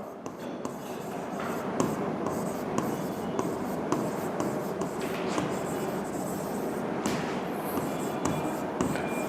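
A pen scratches steadily across paper as amounts are written into a bank reconciliation statement, a close, continuous dry scraping with small taps and pauses and no voices.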